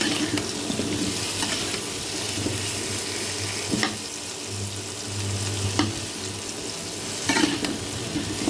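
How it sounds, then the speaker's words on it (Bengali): Pumpkin fries with turmeric over a high flame in a home kitchen, a steady, close sizzle in hot oil with occasional stirring scrapes and clinks throughout. "খালি হলুদ দিয়ে কুমড়োটাকে ফ্রাই ফ্লেমে একটু ভেজে নেব"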